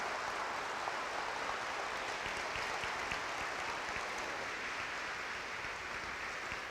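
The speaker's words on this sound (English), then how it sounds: "So just a huge round of applause for our custodians" A large school staff gathering bursts into sustained applause for the custodians and building and grounds crew, a dense, steady wash of clapping from many hands that holds evenly throughout without any voices breaking through.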